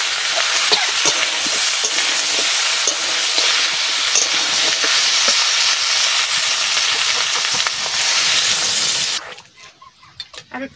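Chicken and potato curry sizzling loudly in a pan after water is added, a dense hissing, bubbling roar that holds steady for several seconds and then drops away abruptly to quiet with a few small clatters.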